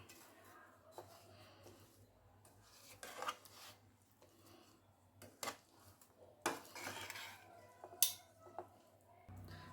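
A spoon scrapes and rubs quietly against a metal pot while cumin powder and coriander powder are mixed for a chicken gongura pickle, with faint, irregular clinks and scratches and a few sharper knocks.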